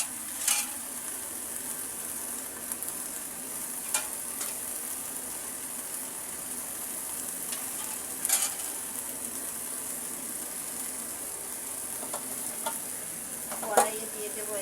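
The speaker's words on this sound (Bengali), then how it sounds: "ছোলাগুলোকে আমি আলাদা একটা ছোট কড়াইয়ের মধ্যে নিয়ে ভেজে নেব।" Chickpeas fry in oil in a small wok, a constant sizzle under occasional sharp scrapes and clicks of stirring spaced several seconds apart, heard close and alone.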